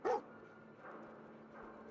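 A dog barks once in Fallout 4, a short, fairly loud yelp, followed by faint game ambience.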